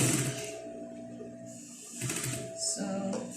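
Sewing machine stitching along a shirt collar, its close mechanical whir running in short bursts that pause and restart.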